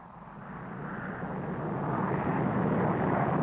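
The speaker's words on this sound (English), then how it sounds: "If necessary, the AV-8 can take off vertically, even from a small forest clearing. But once in the air, it flies and attacks at jet speed." An AV-8 jet aircraft flying, a broad roaring engine noise that builds steadily in loudness as it nears, with no voices.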